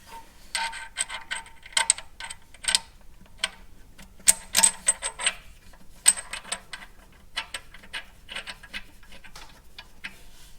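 Bolts on a prototype Ampli-Torque gear unit are tightened with a tool, giving rapid, irregular metallic ticks and clicks in bursts, close and moderately loud, with no talk.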